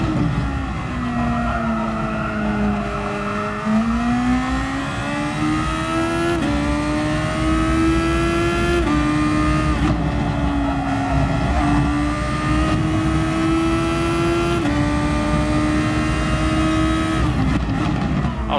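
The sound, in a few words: race car engine in a racing video game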